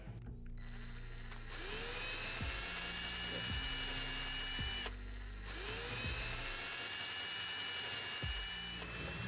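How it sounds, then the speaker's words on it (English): Electric drill fitted with a Phillips No. 2 bit backs screws out of a spa pool panel, two long whirring runs with pitch slides as the motor starts and slows, close and loud with no talking. "To remove it, you will need to use an electric drill with a Phillips No. 2 drill bit."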